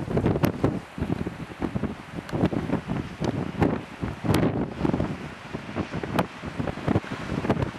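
Cold wind blows by the sea in a remote coastal spot where elephant seals rest, buffeting the microphone in loud, uneven gusts with rumbling bursts and a constant rushing background, no voices present.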